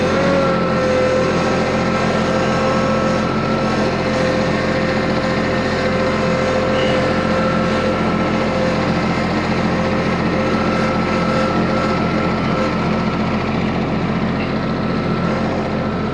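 A small engine on a summer project machine drones and revs steadily for the whole stretch, loud and continuous, with no talking over it.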